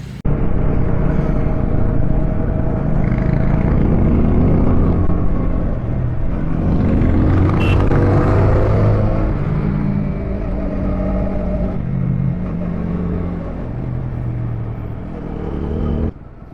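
A vehicle on a mountain road overtakes with a steady, loud engine rumble and tyre roar that swells and slowly eases over about sixteen seconds, with no talking.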